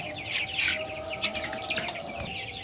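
Desi chickens on a poultry farm clucking and chirping softly at a distance, with a brief flutter of wings amid low background hum.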